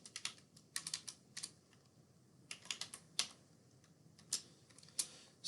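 A folder name is typed on a computer keyboard in bursts of quick, light key clicks with short pauses between, close and fairly quiet, no voices.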